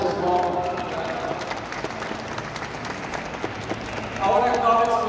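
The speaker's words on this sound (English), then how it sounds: "Round of applause for them and the volunteers as well." Audience applause for volunteers at a celebration for Hazel McCallion's 100th birthday in Mississauga, a crowd clapping steadily with mixed cheering, swelling louder near the end.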